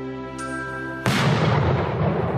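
A single loud, sharp firecracker bang in the city of Schaffhausen, cutting in abruptly over a held tone and then rumbling and echoing away.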